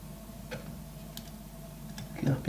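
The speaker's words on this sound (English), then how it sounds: "So now we got the clock in, the pendulum's in place." A pendulum clock, newly fitted in a homemade fruit-powered clock build, ticks softly and steadily up close, with faint clicks over a low background hum.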